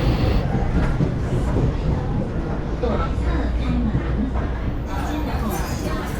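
A train rolls through a tunnel in the Taiwanese countryside, a steady loud rumble with rattling wheel and carriage noise that holds throughout, while faint voices murmur in the background.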